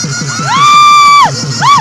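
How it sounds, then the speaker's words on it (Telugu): A wedding crowd cheers loudly, with long rising-and-falling whoops over quick rhythmic pulses that may be clapping, all close and intense. "ఒకసారి గట్టిగా చప్పట్లు కట్టాలి"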